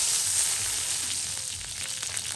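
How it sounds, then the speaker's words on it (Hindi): Chicken pieces fry on a tawa griddle for Pakistani street-food tawa chicken, a constant, even hiss of hot oil with faint crackles and no voices. "अब हम अपने चिकन को एक एक करके इस पे फ्राई करेंगे"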